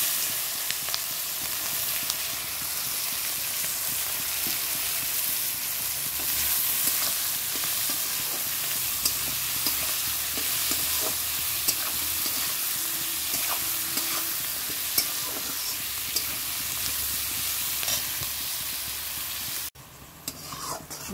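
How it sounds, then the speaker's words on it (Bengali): Onions frying in a pan with potato, salt and turmeric, a steady close sizzle running throughout with spatula scrapes and stirring clatter on top, ending abruptly near the end. "দেখো পেঁয়াজটা ভাজা হয়ে গেছে"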